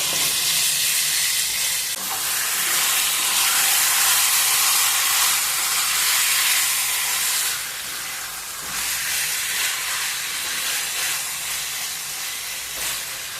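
Chicken pieces with turmeric, chili, salt, ginger and garlic cooking over high heat in a pan, releasing water that steams and sizzles off in a loud, continuous hiss that dips slightly partway through, with no talking.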